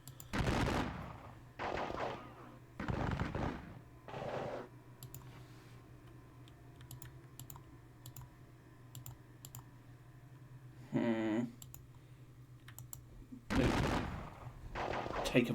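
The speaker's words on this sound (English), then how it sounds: "Take a volley from them." A Gettysburg war game plays musket volleys as several loud bursts of crackling gunfire spread through the clip. A low steady hum runs underneath, and one voice-like tonal sound rises near the middle.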